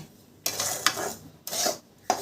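Sheera roasting in ghee is stirred in a kadhai, giving close, rhythmic scraping strokes in short bursts separated by brief pauses.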